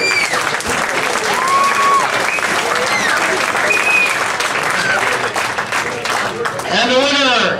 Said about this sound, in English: Let's give these boys another round of applause for their wonderful fight.